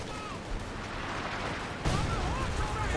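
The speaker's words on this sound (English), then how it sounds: "And I've got some sort of artillery barrage there. I'm not sure what it is. Is it major? I think it's major artillery." A major artillery barrage in Company of Heroes 2 pounds away as dense, rumbling battle noise with overlapping blasts, and the thunder grows louder near the end while a voice talks over it.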